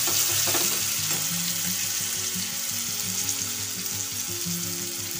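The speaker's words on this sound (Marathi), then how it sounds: "साधारणतः 1 चमचा एवढी हिरवी मिरची आपण यामध्ये घालून तेलामध्ये परतून घेणार आहोत." Ground green chili sautéing in oil sizzles steadily in a pan, with a soft scrape of stirring early on and a constant close hiss throughout and no talking.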